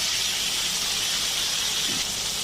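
Pre-fried meat hits a hot chow mein pan with vegetables, giving a steady, bright sizzling hiss that holds evenly and loudly throughout, with no talk.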